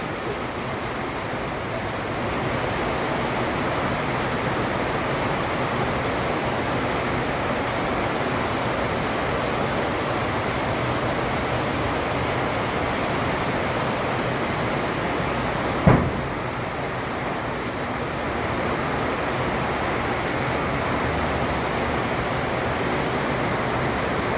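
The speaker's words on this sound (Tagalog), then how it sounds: "Maaraw pero malakas ang ulan." Heavy rain pours steadily in a sunshower, a dense even hiss of drops that holds at the same loudness throughout, with one brief sharp knock partway through.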